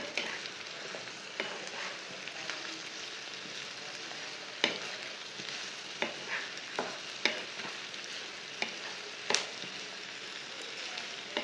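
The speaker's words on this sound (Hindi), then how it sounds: "प्याज और भिंडी को एक साथ भून लेना।" Onion and okra fry together in a pan for a bhindi dish, a steady broadband sizzle with scattered scrapes and clicks of stirring. The sound is continuous and close, with no talk.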